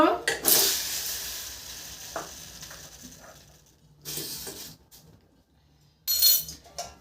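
Tomato heating in a little water in a pan on a gas stove: short bursts of hissing sizzle separated by quieter gaps, close by.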